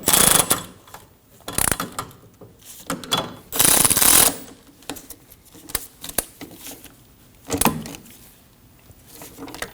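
A ratchet snugging down the rear hub assembly bolts on a 2003-2006 Subaru Baja, loud close clicking in several quick runs with brief gaps between bursts, no talking.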